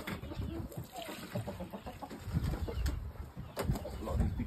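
Game birds and chickens cluck and call in a poultry yard, scattered short bursts from several birds, fairly faint and close, with occasional background noise.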